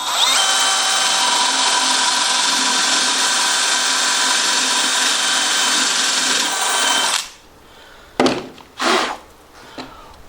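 A power drill whirs steadily for about seven seconds boring into wet softwood timber, then stops, followed by a couple of short bursts of handling noise and a brief rev.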